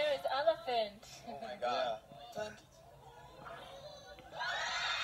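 A crowd screams and shrieks excitedly, with voices shouting over one another and a loud burst of cheering near the end.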